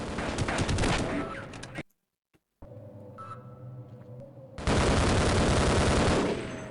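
The turret in Half-Life fires in loud, rapid automatic bursts: one long volley, a sudden silence, then a low mechanical hum, and a second sustained burst of fire.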